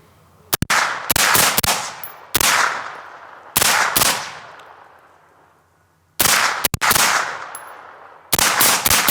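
Rifle fire from an HM Defense Stealth M5 at an outdoor range: sharp, loud cracks fired alone and in quick doubles and bursts, each shot ringing out in a long decaying echo before the next volley.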